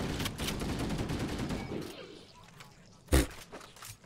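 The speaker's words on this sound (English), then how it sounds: "Hey, wait, what's shooting?" Gunfire in the video game Halo: Combat Evolved Anniversary rattles as a dense burst over the first two seconds, followed by quieter game ambience and a single loud thud near the end.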